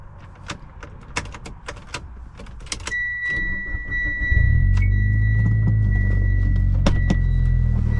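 A 2011 Mitsubishi Lancer Evolution GSR cranks and fires up close by after several clicks and clunks inside the car, then settles into a steady, loud idle rumble.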